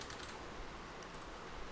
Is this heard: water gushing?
no